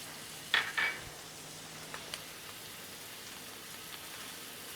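Mushrooms and chopped garlic stir-frying with chicken in a pan, giving a soft, steady hiss and patter close by, with two brief metallic scrapes near the start and faint ticks after.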